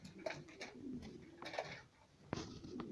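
Adana breed diving pigeons cooing in a rooftop loft setting, soft repeated coos in a loose rhythm over faint outdoor background noise, no talk.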